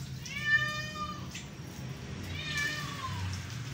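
Angora cat meowing during a bath, two drawn-out plaintive meows with a pause between, close by over faint background noise.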